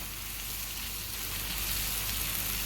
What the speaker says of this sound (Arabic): هتاخد لها تشويحتين كده يا دوب، بس الايه، البصله كده تميل للايه، للتبل